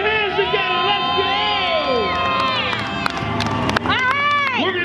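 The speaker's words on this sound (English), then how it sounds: "Put your hands together, let's go!" A crowd at a motorcycle stunt show cheers, whoops and applauds steadily and loudly, with excited individual shouts rising over the roar and a voice calling out among them.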